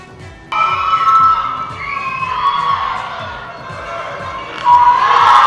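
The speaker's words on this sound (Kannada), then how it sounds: "ಕಾಂಗ್ರೆಸ್ ಕಾರ್ಯಕರ್ತರು ಡಿಸಿಎಂ ಡಿಕೆ ಪರ ಜೈಕಾರ ಕೂಗಿದ್ರು" Congress party workers shout and chant in unison for Deputy Chief Minister DK at a government event, a loud, sustained crowd roar with several rising surges.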